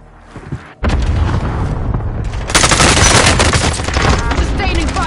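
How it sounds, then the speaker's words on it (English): A cluster strike in the video game Warzone: after a brief lull, loud, dense, overlapping explosions and rapid gunfire erupt and roar continuously, swelling into a heavier barrage partway through. "Enemy cluster strike incoming."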